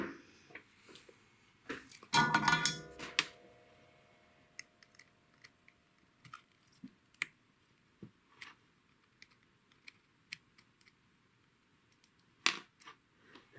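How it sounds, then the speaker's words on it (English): Small snips cut through a part on a Game Boy Color during a repair: one loud crunchy snip near the start, then soft scattered ticks and clicks of handling, close and quiet. "I'll take my little snips and at least snip them down."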